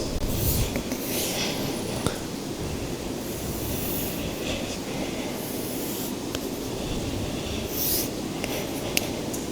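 A lecturer draws a sphere on a board while teaching vectors in a maths class, giving a steady scratchy rubbing with a few sharp squeaky strokes over a constant background hiss, with no talking.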